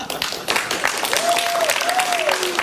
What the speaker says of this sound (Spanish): pueden aplaudir, claro